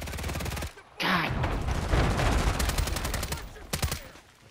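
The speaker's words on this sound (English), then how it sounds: "Getting shot from behind too." Rapid automatic gunfire in a Modern Warfare 3 match, dense bursts of loud close shots, a short pause, then sustained fire and a final volley, with voices talking over the action.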